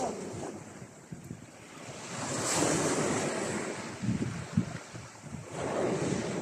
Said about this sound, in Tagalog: hampas ng karagatan